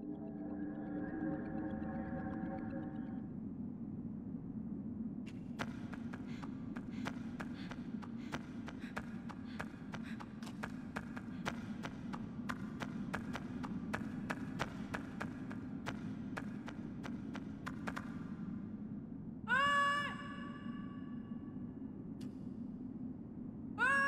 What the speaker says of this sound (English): one of the principal aspects of the sound design are the main character's footsteps